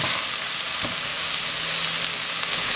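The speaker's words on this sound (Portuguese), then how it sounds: "Agora eu vou colocar, ó, uma cebola cortada bem pequenininha. Vou deixar refogar por aproximadamente uns 30 segundos para pegar o gosto" Finely chopped onion sautéing in a hot pan, giving a continuous close, loud sizzle and hiss with no talking over it.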